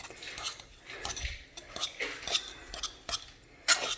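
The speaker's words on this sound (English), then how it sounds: "Just kind of use my fork to stir all that around." A fork clinks and scrapes against a pot while stirring butter into cooked potatoes, a scattered series of light metallic taps and soft scrapes with quiet pauses between, close up and alone.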